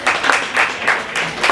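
An audience at a Nerd Nite event breaks into applause, several loud bursts of clapping coming in quick waves, with no talk over them.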